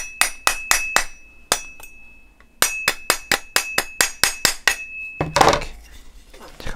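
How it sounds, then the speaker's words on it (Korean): Rubber mallet knocking parts of an EHT airsoft BRN-180s rifle together during assembly: a quick run of sharp, close taps, a brief pause, then another steady series ending in a scuffing clatter, with no talking. "고무망치로 쳐주면 이렇게 유격 없이 정확하게 딱 들어갑니다"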